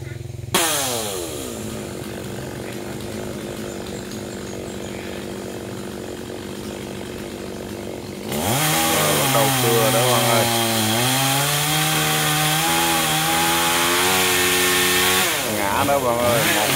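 Chainsaw cutting a very large xà cừ tree near a market, the engine idling and buzzing before surging into a loud, close, sustained cut whose pitch dips and wavers as the blade bites into the wood.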